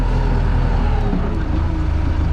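A loader's diesel engine drones loudly and steadily at close range with heavy low rumble, holding a constant pitch under throttle, with no voices.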